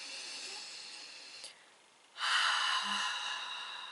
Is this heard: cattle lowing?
no